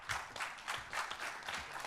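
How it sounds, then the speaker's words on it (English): Applause from a conference audience at the close of a special session at SAFET 2023, a steady wash of clapping that is fairly quiet and distant and lasts only a couple of seconds. "Big round of applause"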